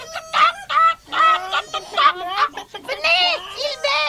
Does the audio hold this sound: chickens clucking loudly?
yes